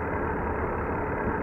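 Steady, loud rocket engine roar in Kerbal Space Program, a continuous dense rumble with no breaks, heard alone.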